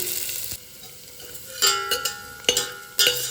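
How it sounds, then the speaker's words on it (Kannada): Food frying in a pan for capsicum rice, a soft steady sizzle punctuated by several sharp clinks and scrapes of a spatula stirring against the metal. "ಗೋಲ್ಡನ್ ಕಲರ್ ಬರೋದಂತ ಫ್ರೈ ಮಾಡ್ಕೊಳ್ಳಿ."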